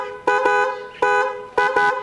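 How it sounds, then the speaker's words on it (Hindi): A Minda T90 trumpet horn fitted to a Harley-Davidson X440 motorcycle sounds three times, each a short double blast with a bright, brassy tone, close and loud. "हमने इसमें लगा दिया एक ट्रम्पेट का हॉर्न, मिंडा की तरफ से जो आता है T90 मॉडल हॉर्न इसमें लगा दिया है।"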